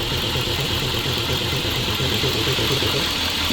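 A ZIL truck engine runs steadily up close, its loud, continuous drone carried on a low, rhythmic throbbing pulse with no break or change in pace and no voices.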